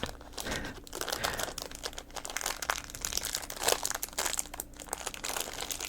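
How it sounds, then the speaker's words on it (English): A crinkly bag crinkled up close, dense continuous crackling and rustling throughout at low volume, no talk. "Almost as much as I like this crinkly bag sound."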